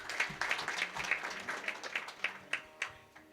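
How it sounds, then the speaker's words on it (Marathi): An audience at a comic Marathi kirtan claps together in a steady rhythmic beat, the claps soft and somewhat distant, with no talking over them. "टाळ्या वाजवा एकदा."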